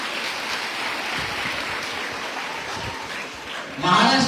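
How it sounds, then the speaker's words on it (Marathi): An audience at a municipal council event for women claps in a dense, steady wash of applause that carries on throughout, with a louder burst near the end. "वर हात वर करून जरा टाळ्या वाजल्या पाहिजेत"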